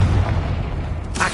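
Confringo blasting-spell explosion in Hogwarts Legacy, a single loud booming burst with a deep rumbling body that rolls on for about a second, no voices over it.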